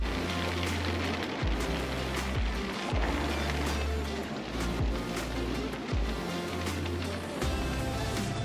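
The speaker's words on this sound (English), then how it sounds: "it's raining quite a lot" Rain falling steadily on a sailboat under sail in the Bahamas, a constant patter and hiss over a low rumbling engine or hull drone that pulses in regular swells.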